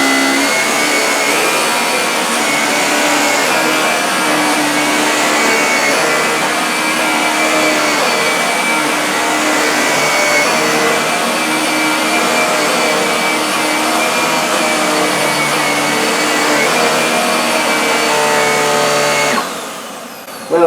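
Hoover Velocity upright vacuum cleaner running with its brush roll on, a loud, steady whining motor drone with a high-pitched edge, holding constant throughout before cutting off at the end.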